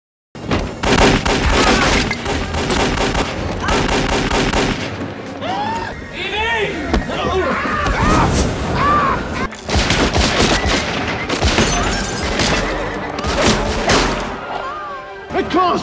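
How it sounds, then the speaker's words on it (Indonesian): A film shootout erupts in dense bursts of gunfire: rapid cracking shots and heavy booms pile up over about sixteen seconds, loud and close, with shouted voices and dialogue breaking through between volleys. "langsung memulai baku tembak"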